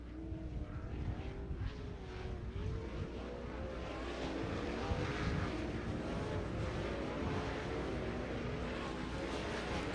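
Sprint cars run hot laps on the oval at Attica Raceway Park, making a steady, rough engine drone that rises and falls slightly as the field circulates, heard at a moderate distance.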